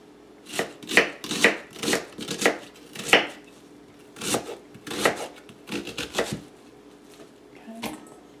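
A knife rough-chops cabbage on a cutting board in a run of rapid, close, crisp strokes grouped in bursts, with a short pause before a final cut.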